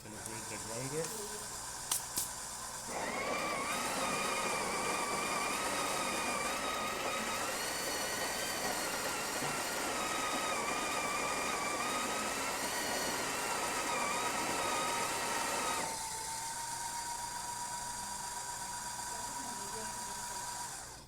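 A Breville Oracle Touch coffee machine's built-in grinder whirs steadily for about thirteen seconds during recalibration after a service, a dense mechanical buzz with a faint high whine that starts abruptly and cuts off, leaving a low hum.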